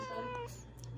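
A cat gives a single short, soft meow, heard close by and alone in a quiet room.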